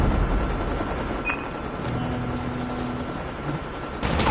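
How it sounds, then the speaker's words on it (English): A hostile stealth chopper from the Call of Duty Mobile video game flies in, a steady loud rotor drone under busy battle noise with a brief tonal blip and a sharp burst near the end. "Be advised, hostile stealth chopper inbound."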